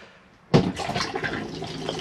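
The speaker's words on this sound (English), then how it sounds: "You've got your flush, so always flush the toilet first, which lubricates the blade and the seal to stop it becoming brittle." A cassette toilet in a Bessacar E424 motorhome flushes from a pump-fed freshwater tank, starting abruptly with a splash and then a steady trickling gush of water into the bowl.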